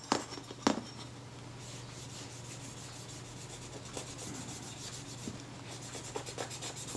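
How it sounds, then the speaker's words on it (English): A cloth soaked in naphtha rubs over the top cover of a Kodak Retina IIa camera, a soft, faint, continuous scrubbing close up with a few sharper scrapes and brief bumps near the start. "So the top cover, I'll clean this with some naphtha."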